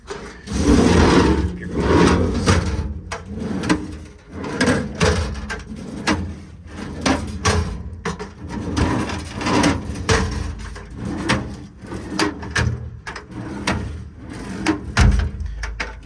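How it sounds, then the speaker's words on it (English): Repeated sliding and knocking of metal twist-lock drawers on a truck service body being pulled open and pushed shut, a steady series of rolling scrapes and soft thuds, fairly close. "All the drawers slide nice and smooth."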